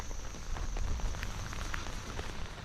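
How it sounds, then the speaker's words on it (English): Light rain from a tropical system falls on open mountain balds, a soft steady patter of scattered drops with faint crackling taps and no voices. "already rain has begun to fall. Right now it is very light"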